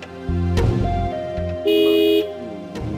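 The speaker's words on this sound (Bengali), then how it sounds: "এইটা হুন্ডার হর্নের আওয়াজ।" A Honda motorcycle horn honks outside a house in a Bangla drama scene: several short, bright toots, then one longer, louder blast, close by and with no talk.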